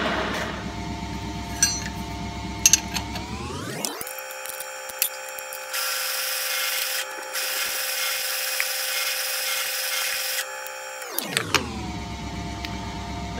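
A milling machine drilling holes in an aluminium disc: the spindle motor hums steadily, then a loud sustained grinding roar as the bit cuts into the metal for several seconds before returning to the hum, close and without talk.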